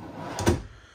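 A soft-closing drawer in the front kitchen of a 2022 Riverstone Reserve 3950FWK fifth-wheel RV slides shut with one muffled, cushioned thud near the microphone, with no voices over it.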